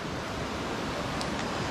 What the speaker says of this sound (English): We're going over the Nolichucky River right now